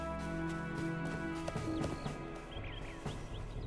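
Hooves clip-clop in a quick, steady rhythm over a humming game background, with a faint whinny near the start, from a horse galloping in The Lord of the Rings Online.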